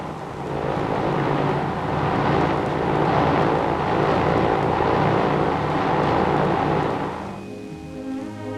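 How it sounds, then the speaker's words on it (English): A KLM Royal Dutch airliner arrives at an international airport, its engines giving a sustained broad roar that holds steady for several seconds then fades, heard fairly loud and alone. "Arriving at the International Airport as one of KLM's Royal Dutch airliners, familiarly known as the Flying Dutchman."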